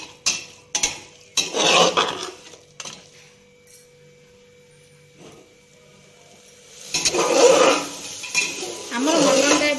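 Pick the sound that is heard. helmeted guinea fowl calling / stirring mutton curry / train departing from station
stirring mutton curry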